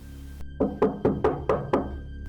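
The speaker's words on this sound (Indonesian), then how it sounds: "Kudengar pintu diketuk." Six evenly spaced knocks on a door, firm and close, in a rapid run against a steady low background hum, used as a sound effect in a spoken horror story.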